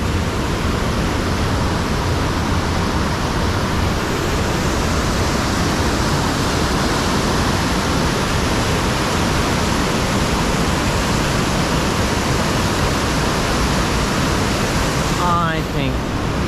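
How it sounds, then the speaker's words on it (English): Rushing water of a boisterous creek beneath a small footbridge on a forest hiking trail, a loud, constant broadband roar filling the whole scene without pause. "Another bridge. Little one over a boisterous creek."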